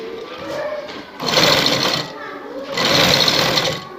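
Sewing machine stitching a design along a shalwar hem, running in two loud bursts of rapid, buzzing stitches with a pause between them.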